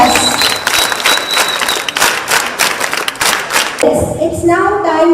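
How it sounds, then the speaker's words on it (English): A crowd at a formal ceremony applauds police officers with dense, loud clapping throughout, and a voice begins speaking over the tail end. "Once again, a big round of applause for all the best officers."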